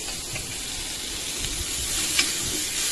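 Chopped tomatoes hit a pan of sautéing onions for a Tamil-style chutney, producing a steady close sizzle with light stirring clicks and scrapes throughout.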